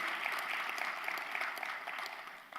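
Congregation applauding in encouragement during a church worship service after a choir's hymn, a steady dense clapping that fills the room and tapers slightly at the end.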